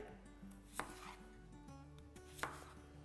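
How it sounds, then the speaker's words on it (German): A knife quarters small potatoes on a board in a few distinct, sharp chops, quiet and close, over soft background music. "Da die Kartoffeln relativ klein sind, viertel ich sie."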